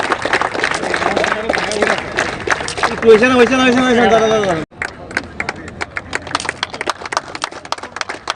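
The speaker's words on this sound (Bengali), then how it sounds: "সবাই বড় জোরে হাততালি দেবেন প্লিজ" Audience applause at a football league championship trophy ceremony in Tripura: loud, sustained clapping from a crowd, with an announcer talking over it in the middle, then continuing as sharp, clustered claps.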